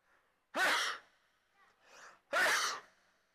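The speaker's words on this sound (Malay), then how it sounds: "Kita bersin." Two loud, sharp sneezes burst out close by, separated by a softer breathy sound, during footage of a friendly amateur football match.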